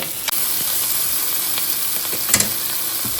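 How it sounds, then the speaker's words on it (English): Regular mushrooms sauteing in a pan make a loud, steady, close sizzle with a few soft stirring clicks and scrapes, with no talking. "I've been sauteing my mushrooms for about 3 to 4 minutes."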